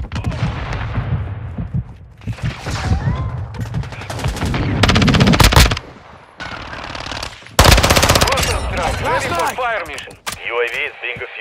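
Bursts of automatic weapon fire and sharp shots in a military shooter video game, loud and close, broken by brief pauses and mixed with radio-style voice callouts and game effects.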